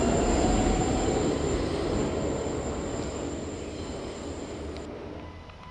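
New York subway train, an E train, pulling out of the World Trade Center terminal platform, with a steady rolling rumble and a thin high wheel whine that gradually fades as the cars move away.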